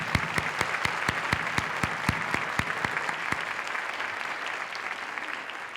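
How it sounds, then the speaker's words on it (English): Sustained audience applause for veterans at a Frederick Community College event, a steady wash of clapping with a few sharper individual claps standing out, continuous and even throughout with no talking. "give a round of applause to our veterans"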